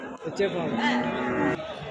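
Cows low at a weekly cattle and bullock market, with a drawn-out, close moo over the low murmur of the crowd.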